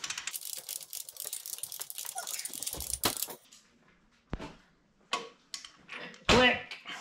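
A torque wrench tightening the timing chain tensioner on a Saturn Sky's 2.0 Ecotec engine gives a few sharp, close metallic clicks at irregular intervals, following a stretch of rattling workshop handling noise.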